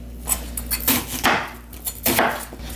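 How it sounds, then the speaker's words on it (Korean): A few sharp knife chops cut an onion coarsely on a cutting board at an irregular pace, close up and fairly loud, with no voices. "양파도 이렇게 조금 굵직하게 썰어 놓겠습니다"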